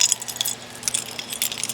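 Keys jangle and clink in short bursts while travel gear is packed for a minivan camping trip, bright metallic chinks scattered over a low steady hum, fairly close and moderately loud.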